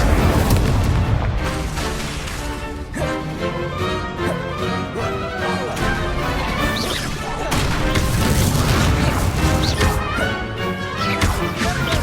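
Spell-casting combat in Hogwarts Legacy on PS5, with Incendio fire spells thrown among other spells: a dense, continuous barrage of crashing bursts, whooshes and booming impacts over game music, loud and steady throughout.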